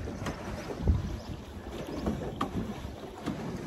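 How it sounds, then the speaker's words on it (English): A paddle boat moves along a river with soft, irregular water sloshes and paddle strokes under steady wind noise buffeting the microphone. "So here we are, just paddling away."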